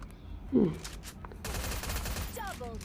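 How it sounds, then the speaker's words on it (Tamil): Gunfire in the mobile battle-royale game Free Fire, with a quick burst of shots heard fairly faintly amid game sounds and a brief tonal effect. "இந்த கன் சூப்பராக சுடுதே"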